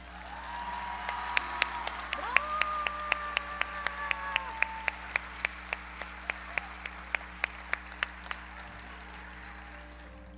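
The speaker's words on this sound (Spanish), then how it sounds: "Démosle un gran aplauso a la generación" Applause for the graduating class of 2022 at an end-of-course graduation ceremony: a steady wash of clapping runs throughout, with regular sharp claps standing out and a sustained electronic tone sounding in the middle.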